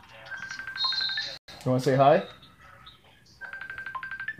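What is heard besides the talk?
phone ringing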